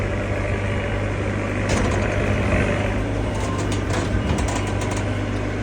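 A 45 ft boom lift driving at full speed near an airplane, its engine producing a steady, loud low rumble that holds throughout, with faint intermittent clanks above the drone.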